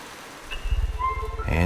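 Rain falls steadily in a wet mountainous forest, a dense patter of drops building over the moment, with bird-like tones and a voice briefly mixed in near the end.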